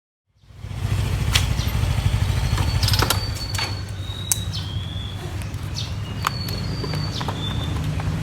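Motorbike ride on the road to Looc, steady low engine drone with wind noise running throughout, occasional bird chirps and faint high tones above, no talking.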